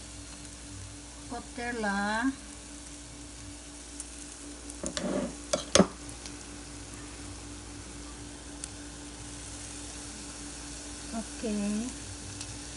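Okra omelet sizzling steadily in a frying pan, a constant soft frying hiss running throughout, with brief clatters midway and a person talking briefly near the start and end.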